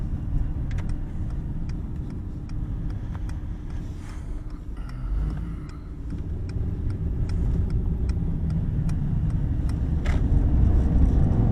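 A Mercedes-AMG GT63 Pro rolls slowly on a wet track surface, its engine a low, steady rumble heard from inside the cabin, with light tyre and road noise and faint clicks.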